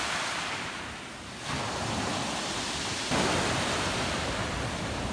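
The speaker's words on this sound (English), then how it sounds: "just absolutely beautiful with these waves rolling in as such" Ocean waves roll in on a beach where people hunt for sea glass, a continuous broad wash of surf with some wind on the microphone, swelling slightly louder midway.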